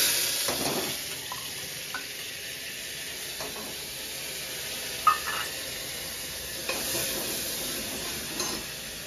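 Steady sizzling of onion-garlic paste frying in hot oil, with occasional stirring scrapes and clinks over a constant hiss; no one speaks.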